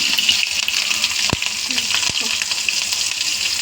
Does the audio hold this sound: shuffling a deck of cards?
no